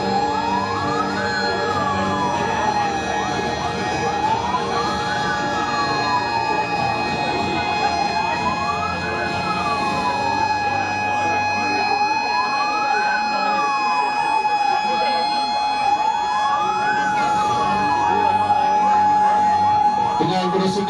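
A fire truck siren wails continuously, rising and falling in a slow repeating cycle, loud and close, over an engine rumble.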